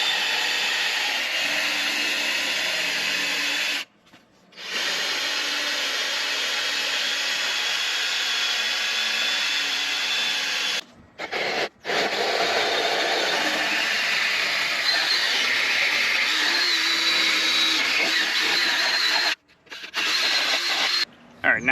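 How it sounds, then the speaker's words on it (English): Power drill boring a pilot hole through the wall of an old house, a loud continuous whirring grind that runs steadily for most of the stretch and is broken by a few brief pauses. "drill a quick pilot hole"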